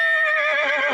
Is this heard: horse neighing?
yes